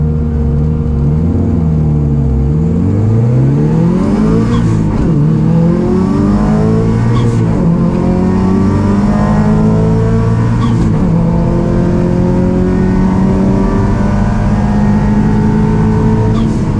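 A 1998 2.5RS car at a drag race revs hard, its engine note sweeping up and down through repeated climbs, loud and close, with a steady rumble throughout and no talking.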